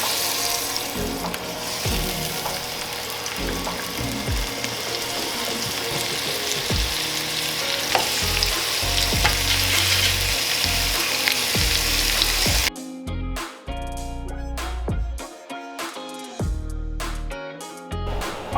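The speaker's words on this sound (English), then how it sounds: "we're gonna pan fry these bad boys to nice golden brown" Seasoned beef cheeks for birria tacos sizzle and crackle steadily as they pan fry in hot oil, with scattered clinks and stirring noises, the sizzle cutting out abruptly into quieter clatter near the end.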